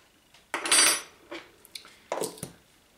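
Spoonfuls of sugar added to a cup of Lipton tea: a clattering scoop and clink of metal spoon against a cup, then a few lighter taps and scrapes, close up with no talk.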